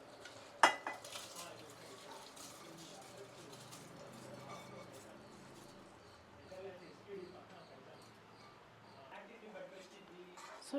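Rice and dal soaked in water are stirred in a cooking pot with a spoon or ladle, giving soft, scraping clinks and a faint sizzle. A single sharp knock of metal on metal comes early, and a voice talks quietly throughout.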